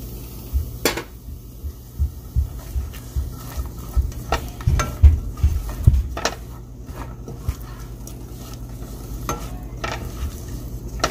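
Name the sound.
chopped onions sizzling in olive oil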